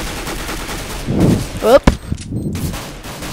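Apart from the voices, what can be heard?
MP9 gunfire in the video game Counter-Strike: Global Offensive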